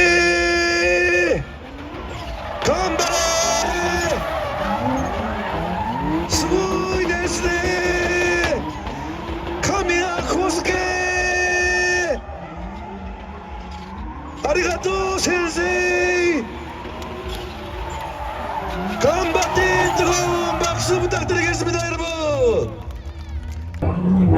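Cars drifting at the 2025 Boryeong AMC International Motor Festival. Engines rise and fall in repeated revving sweeps under constant crowd babble, with an announcer talking loudly over it.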